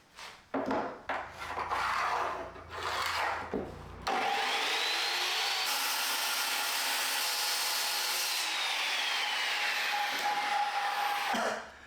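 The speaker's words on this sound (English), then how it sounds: "I am going to freehand this, so we'll put my saw blade abilities to the test." Fine-tooth saw blade cutting freehand through wooden slats for a DIY kitchen island, heard as a loud, steady powered whine that runs for several seconds after a burst of irregular workshop handling noise.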